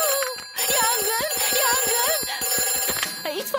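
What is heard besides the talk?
fire station telephone ringing in cartoon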